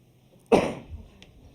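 A single sharp sneeze bursts out of near silence during a board meeting, loud and close, followed by a brief fading exhale.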